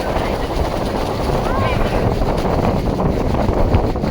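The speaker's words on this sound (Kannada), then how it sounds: "ಗಾಳಿ ಅಂತೂ ಸಿಕ್ಕಾಪಟ್ಟೆ ಇದೆ." Strong wind buffeting the microphone at a foggy hilltop viewpoint, a loud, continuous low rumble and roar with gusty fluctuations and no pauses.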